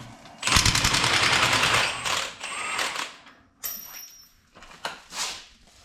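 Fasteners being loosened on the master lift of an Allis Chalmers G tractor, with a fast, close metallic ratcheting rattle that runs for about two seconds, then a few shorter clicks and bursts of tool noise.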